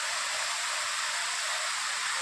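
Palur Kotta waterfall near Perinthalmanna, heard alone as a constant, even wash of rushing water, fairly soft and unbroken for the whole stretch.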